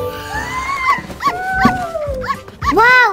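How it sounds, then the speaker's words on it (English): A dog gives a short series of close, high yips and whines, with rising and falling cries in quick succession across a few seconds. "Wow, it's a dog."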